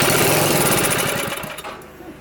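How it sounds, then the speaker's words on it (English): A small free engine, once thought to have a frozen piston, fires up and runs with a loud, rapid buzzing chatter, close by, then tapers slightly lower in volume toward the end. "Fired right up."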